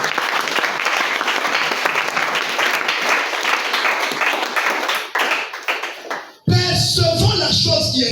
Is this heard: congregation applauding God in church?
yes